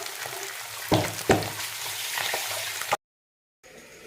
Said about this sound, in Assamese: মায়ে সৰু মাছ পিঁয়াজ দি ভজা